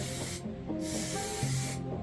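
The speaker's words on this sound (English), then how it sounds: "spraying with the contact adhesive" Contact adhesive sprayed from an aerosol can onto a cut piece of polystyrene insulation board, a steady loud hiss in two long bursts with a short pause between, close up and alone.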